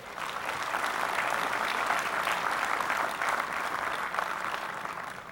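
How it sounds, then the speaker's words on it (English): Steady applause from a large audience at a college commencement honoring a reunion class, a dense continuous clapping heard from a distance with no talking. "let's give them a round of applause"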